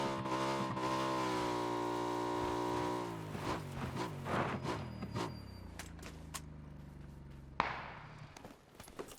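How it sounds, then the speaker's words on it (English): Motorbike engine in PUBG, a steady droning tone that shifts pitch as the rider accelerates, joined by brief thuds and scrapes as the bike moves over the terrain. "So I got on my bike and made my way for a drop."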